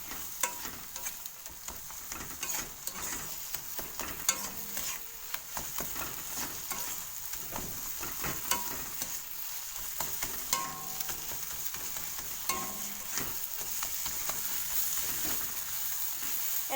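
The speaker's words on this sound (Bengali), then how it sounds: "এটাকে আমি ভালো করে ঘাটিয়ে নেব" A cracked egg stirred into frying spice masala for an egg and potato dish, sounding as a continuous close sizzle with frequent rapid scraping and tapping of a spatula throughout, with no talk.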